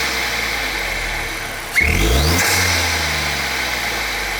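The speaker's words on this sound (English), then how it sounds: "Now you can start the car, check for engine lights and give it a few revs." A MK8 Ford Fiesta ST fitted with a C:Performance induction kit idles, then gives a sharp, loud rev with a quick second blip before settling back to a steady idle. Heard close up, with no talking.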